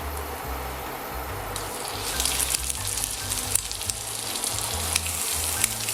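Quail pieces sizzle in a hot pan, a steady crackling fry close by that grows busier and louder, with occasional pops and stirring sounds.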